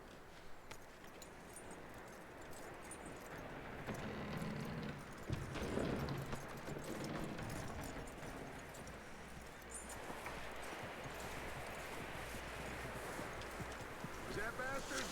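Horse hooves clip-clop in the Red Dead Redemption 2 video game, a steady walking beat running throughout under game wind and ambience, with talk occurring intermittently.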